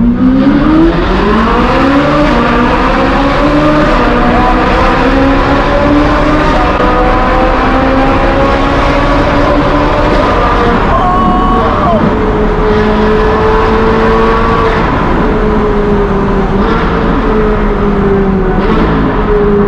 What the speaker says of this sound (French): Ah ouais, mais là, c'est vraiment une Formule 1.